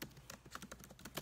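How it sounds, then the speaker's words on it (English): A brief burst of quick keyboard typing up close, about eight rapid key clacks in an uneven rhythm, fairly quiet with no voices. "I'm just gonna type this real quick"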